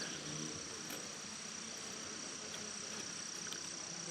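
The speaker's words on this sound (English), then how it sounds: "A lot of bees hanging out, big time." Bees and wasps work a patch of Virginia mountain mint in a garden, giving a steady, even insect buzz and hum that runs through the whole stretch, with no talking.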